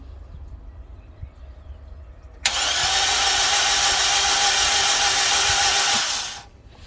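A Honda K20Z4 engine with no spark plugs fitted cranks over on the starter, a loud steady whirring drone that starts abruptly after a quiet stretch, runs for about four seconds and then cuts off.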